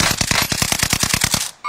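Rapid automatic gunfire from a shooting video game rips out as a loud, close burst of about a dozen evenly spaced shots, then cuts off abruptly.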